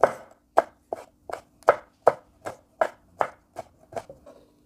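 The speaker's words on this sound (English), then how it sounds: "Now cut across like this, slicing it, finely slicing it." A knife finely slicing chili on a chopping board makes about a dozen crisp, evenly spaced thuds close by, each a sharp tap with a short decay. No one speaks.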